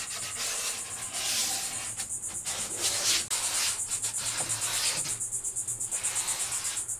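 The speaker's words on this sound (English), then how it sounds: "Just a quick, nothing special, just a quick sand." An antique wooden desk being lightly sanded by hand along its edges: a soft, close, rhythmic rasp of paper on wood, quick back-and-forth strokes repeating steadily, with no talking.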